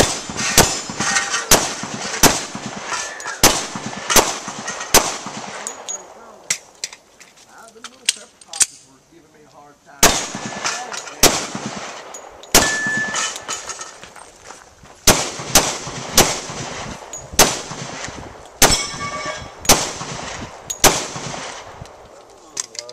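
Pistol gunshots ring out on a USPSA practical shooting stage, loud and near in quick strings of sharp cracks separated by short pauses, steady through the whole stretch.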